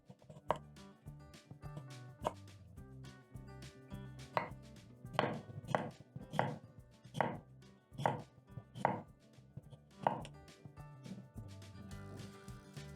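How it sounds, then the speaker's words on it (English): A knife slices a clean cucumber into rings on a cutting board, giving a steady series of crisp, close chops with brief pauses between strokes and no talking. "So you'll pick your clean cucumber and cut into rings."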